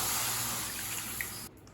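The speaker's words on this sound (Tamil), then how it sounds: "இப்போ அடுத்தது 1 கப் தண்ணி சேர்த்துக்கலாம்" A cup of water poured into a pan while making kozhukattai, a steady close splashing hiss of running liquid that cuts off abruptly near the end.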